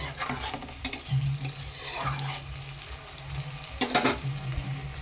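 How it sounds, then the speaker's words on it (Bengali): Potatoes frying in a pan, a soft sizzle with spatula stirring and scraping against the pan, moderately quiet and close. "তো দেখো আলুটা আমি ভাজা করে নিচ্ছি"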